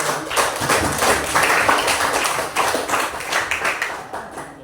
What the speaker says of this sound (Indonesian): Sekali lagi kepada seluruh kelompok, berikan tepuk tangan untuk kita.